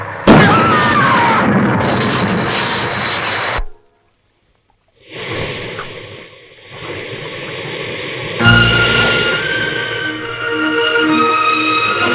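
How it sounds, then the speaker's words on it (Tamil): Bombs explode in loud bursts with deep booms and whooshing debris, broken by a moment of near silence before more blasts and rumbling crashes return, with no speech. "எந்த பக்கம் வெடிகுண்டு வீசிட்டு இருக்கிறாங்க"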